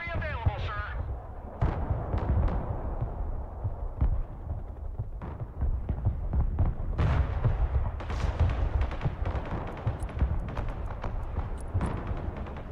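Booming artillery salvos in the Broken Arrow war game, a run of heavy, irregular blasts and rumbling impacts over about twelve seconds, dense and loud, with a voice speaking under the barrage.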